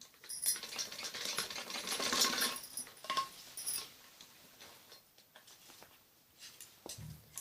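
A sewing machine stitches around a padded blouse neckline over lining fabric in quick, faint bursts of rapid mechanical rattling that start and stop, with quiet pauses between runs.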